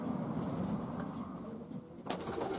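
Pigeons at a racing loft coo softly in a continuous low murmur, with a brief flutter or rustle near the end.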